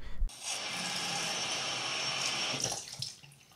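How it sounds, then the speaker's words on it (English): Water runs steadily from a tap into a sink, a bright continuous splashing rush that stops abruptly near the end, followed by a few drips and small splashes as cold water is scooped onto a face. "Some nice cold water in the face."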